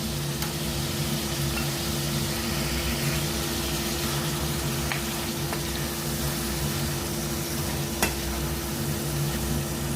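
Ten garlic cloves sizzle and fry in oil in a pan for a Tamil garlic kuzhambu, a steady close crackling hiss that runs without a break, with no voices.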